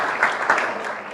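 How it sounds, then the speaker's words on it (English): A brief burst of audience applause at a peer-learning session, several claps swelling and settling over about a second, fairly close. "thank you so much, and applause to yourself"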